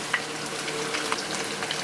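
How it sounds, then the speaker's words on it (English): Jumbo shrimp coated in cornstarch fry in hot oil for a Chinese sweet and spicy stir fry, a close, steady crackling sizzle with small pops scattered throughout. "So you go ahead and you just put your shrimp in."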